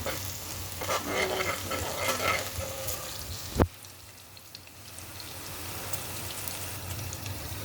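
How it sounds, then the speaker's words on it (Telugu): Onions fry in oil in a kadai for a curry, with a dense close sizzle and crackle; a sharp clatter lands midway, then the sizzling continues more softly. "కడాయి పెట్టి ఆయిల్ వేసి ఆనియన్స్ ఫ్రై చేసుకున్నాను."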